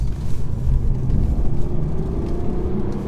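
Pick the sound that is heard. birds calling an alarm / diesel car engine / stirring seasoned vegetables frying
diesel car engine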